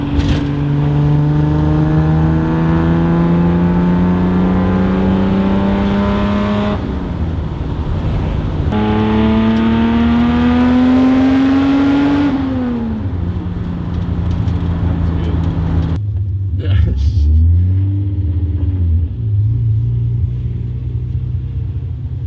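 A Datsun 280Z fitted with a Fujitsubo-style muffler revs and pulls through the gears, a loud, close, continuous engine drone with rising and falling pitch and a sharp drop near the end, while people talk over it.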